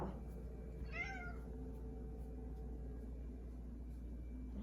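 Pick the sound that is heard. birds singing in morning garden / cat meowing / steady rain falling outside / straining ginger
cat meowing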